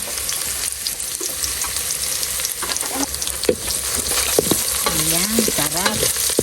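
Garlic, onion and ginger sizzle and crackle in a hot pan while being stirred, a loud, steady frying hiss with scraping stirs, and a person speaks briefly over it.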